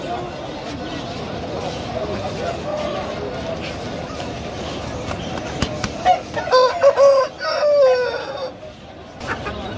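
Chickens cluck and call at a busy Friday bird market in Baghdad, clustered bursts near the end over constant crowd chatter and voices of people talking.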